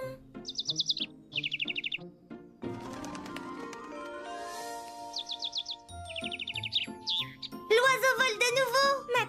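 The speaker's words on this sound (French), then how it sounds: "L'oiseau vole de nouveau." Cartoon bird chirping in quick high bursts in a Hello Kitty cartoon, several short chirp runs near and clear, alternating with musical score and a busier flurry of chirps at the end.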